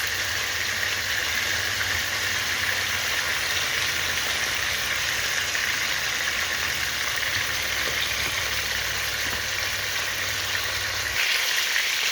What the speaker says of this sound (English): we're gonna allow this to fry on medium heat